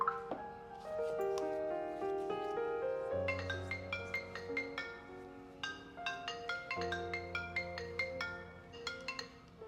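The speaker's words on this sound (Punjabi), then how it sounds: "ਸਵੇਰੇ ਸਵੇਰੇ ਮੈਨੇਜਮੈਂਟ ਦਾ ਫੋਨ ਕਿਵੇਂ ਆ ਗਿਆ" A melodic phone ringtone plays alone, a bright repeating tune of short tonal notes looping steadily at moderate volume.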